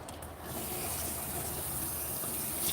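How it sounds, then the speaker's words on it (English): Steady water gushes close by as a dog is rinsed in a grooming tub, a continuous even spray with no talking. "we're going to rinse her out"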